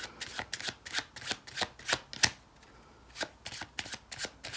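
Playing cards shuffled into a deck during a card trick, a quick run of crisp riffling bursts with brief pauses between, close and fairly loud with no voices.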